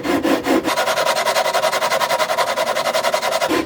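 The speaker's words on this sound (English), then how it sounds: "just by sanding" A guitar fretboard is sanded in quick back-and-forth strokes during a refret of a bound-neck guitar, giving a close, loud, rhythmic rasping that runs continuously with no talk.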